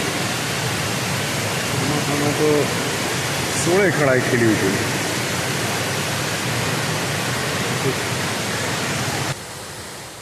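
The Gira waterfall near Waghai on the Nashik road roars as a loud, steady broadband rush throughout, while someone talks over it partway through.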